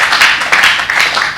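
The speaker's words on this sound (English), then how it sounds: "Let's give Jesus a clap of faith." A church congregation clapping together, a loud, dense burst of applause filling the short moment without pause.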